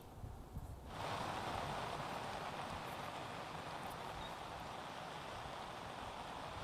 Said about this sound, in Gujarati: આગાહી પ્રમાણે વરસાદ થઈ રહ્યો છે